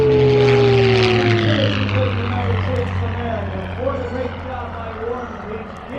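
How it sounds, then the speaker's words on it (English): A propeller airplane makes a low, close flyby at the Williston Airshow, a loud droning engine roar with a falling pitch as it passes, then fading. Excited voices talk over it. "He's gonna do a flyby."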